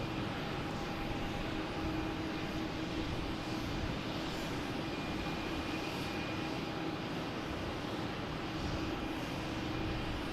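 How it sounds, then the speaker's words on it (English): A Cape Air Cessna 402 twin-prop plane lined up at Boston Logan, a constant distant engine drone with a steady tonal hum and broadband airport noise throughout. "We have a Cape Air lined up heading to Hyannis"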